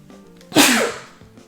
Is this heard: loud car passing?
no